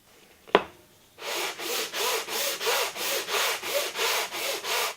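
Sandpaper of 80 grit rubbed back and forth along a guitar fretboard being radiused for a fretless build, a dozen steady, evenly paced scraping strokes up close after a single sharp knock, with no talking.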